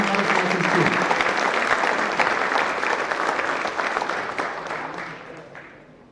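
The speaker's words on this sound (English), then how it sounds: "let's give one more round of applause" A crowd at a school winter sports awards assembly claps loudly in a dense, sustained round of applause that gradually fades out toward the end, with a brief voice early on.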